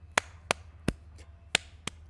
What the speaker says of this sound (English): Hit your chest and your Hambone.